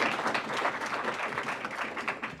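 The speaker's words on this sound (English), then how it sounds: "Let's get a round of applause." A steady round of applause from the audience at a Mozilla project meeting, a dense, even patter of many hands clapping together at moderate distance.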